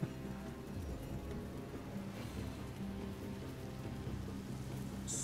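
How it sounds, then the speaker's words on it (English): Steady in-game rain spell from Divinity: Original Sin Enhanced Edition, a dense continuous patter of drops on the ground with a faint low rumble underneath, holding even and unbroken throughout with no voices. "Now we'll put some rain down."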